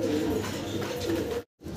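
A pair of Modena pigeons coo close by in soft, continuous low murmurs that run without a break, then stop for a brief silent gap and resume at the end.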